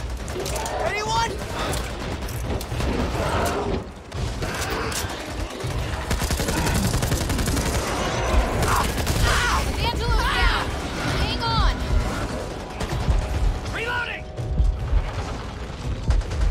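Rapid gunfire and mechanical weapon clatter from the zombie shooter game Back 4 Blood, dense bursts of automatic fire and booms running continuously under frequent shouted talk between players.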